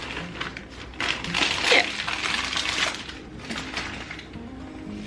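Whisk churning chocolate chips through thick cookie dough in a bowl, clattering and scraping irregularly up close, with a brief spoken word.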